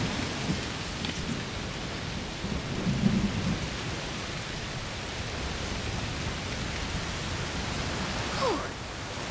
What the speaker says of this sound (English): it's raining a lot. Yes, must be a heat storm.